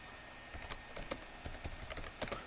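Soft, irregular clicking of keys on a computer keyboard, close by and quiet, with uneven bursts of keystrokes and no voices.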